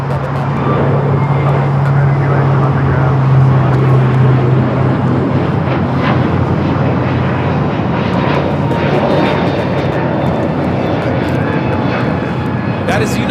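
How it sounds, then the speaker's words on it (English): A United Airlines A321neo takes off from LAX, its engines a loud, sustained roar with a low droning hum that fades after a few seconds, while a voice talks over it. "That is United Airlines 1729 taking off to Denver, Colorado on the A321neo."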